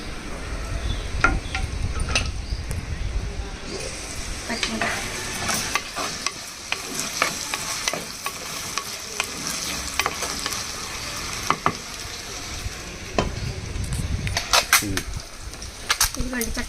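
Eggs fry with turmeric in a pan, giving a continuous close sizzle broken by sharp crackles, pops and scraping clicks of stirring throughout.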